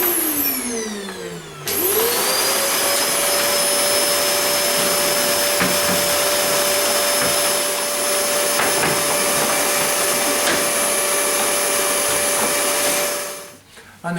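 A vacuum cleaner runs continuously and loudly up close, a whining motor drone as it sucks fluff from a tumble dryer door frame, starting up after a brief moment and winding down at the end.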